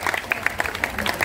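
Applause from an audience at a Neapolitan cultural evening, fairly close and moderately loud, with distinct individual claps popping out of a dense patter over about a second.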